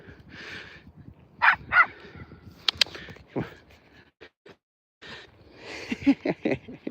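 Dogs bark and yip in scattered bursts close by during a walk with six dogs, with a few sharp barks, whines and pauses between them.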